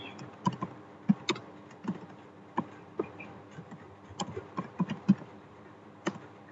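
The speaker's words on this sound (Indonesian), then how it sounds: "Kita ketik lagi," Keys clack on a computer keyboard in short, uneven bursts, with a dozen or so distinct close taps scattered across several seconds and no speech over them.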